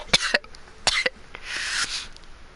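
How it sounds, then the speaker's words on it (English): A person coughs several times in short, sharp bursts at close range, followed by a breathy exhale or throat noise, with no talking. "Case in point, your horrid cough."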